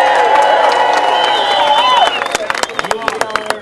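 An enthusiastic crowd claps and cheers at a Hollywood Walk of Fame star ceremony. The applause is loud and steady at first, then thins into scattered claps, and voices can be heard among them.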